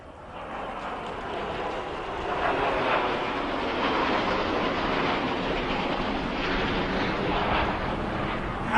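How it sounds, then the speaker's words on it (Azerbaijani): MiG-29 fighter jets flying over a military parade in Baku, a broad roaring rush that swells after the first seconds and holds steady and loud, with wind buffeting and no speech. "MiG-29 tipli teyyareler."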